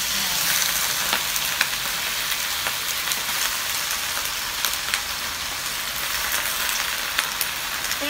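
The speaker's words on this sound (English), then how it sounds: "Stir fry lettuce, guys." Lettuce stir-frying in a hot pan, a loud, continuous sizzle and crackle with occasional scraping stirs, close up and uninterrupted.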